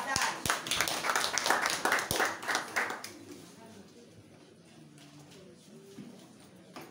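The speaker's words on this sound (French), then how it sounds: "On applaudit pour le partage." The audience at a product presentation claps for about three seconds in a lively burst, then falls away into a quieter room with scattered faint sounds and some background voices.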